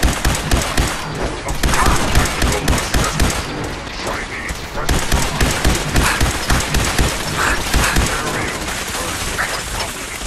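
Gatling laser fired from power armor in Fallout 4, a dense, loud stream of rapid blasts that runs throughout, with someone talking over it.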